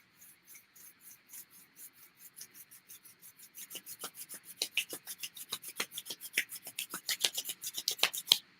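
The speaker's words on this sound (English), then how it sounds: "if you would like to join me in rubbing your hands together" Two hands rubbing briskly together in a quiet room, a rhythmic series of dry swishing strokes that begin soft and grow faster and louder, close and alone.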